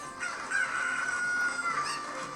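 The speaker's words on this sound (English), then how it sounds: "I'm about to drop this chicken" A chicken from the Zelda: Ocarina of Time video game, heard as a near, steady synthetic rooster-like squawk and cluck lasting a couple of seconds with no talk over it.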